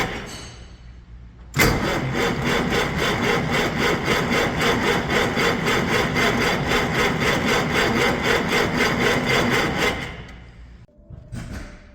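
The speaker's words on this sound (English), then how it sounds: "now we have our 6-volt battery hooked up to the engine as well, and we're going to try starting it" An old marine flathead engine, long left sitting in a field, cranks on a 6-volt battery: a loud, steady rhythmic churning of the starter runs for about eight seconds, then stops, followed by a brief second burst.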